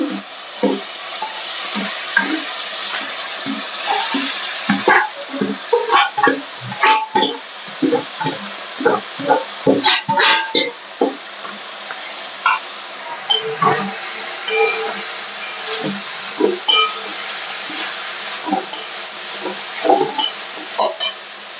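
Boiled banana flower with spices being stirred in a wok, loud scraping and knocking strokes of the spoon in an irregular rhythm over a steady sizzle, close up with no voices.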